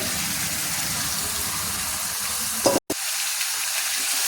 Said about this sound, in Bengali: এবার আমি দিয়ে দিচ্ছি আমার ম্যারিনেট করা মাংসটা, পুরোটাই দিয়ে দিচ্ছি